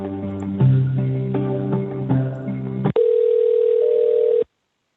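A telephone dial tone with connection beeps plays while a call connects, steady and loud, with a buzzy multi-tone signal that changes pitch a few times before a clean sustained tone that ends abruptly.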